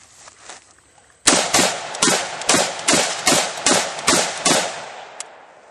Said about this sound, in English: If you listen, you heard that click after every shot.